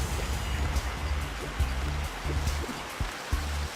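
Game water in a Teenage Mutant Ninja Turtles video game, electrified and fallen into, gives a steady rushing, sloshing wash with low rumbling bursts, continuous and fairly loud throughout.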